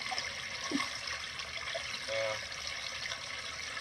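Water spilling over the top of a leaking container gives a quiet, steady trickling rush, with a few faint tonal squeaks and bumps in the background.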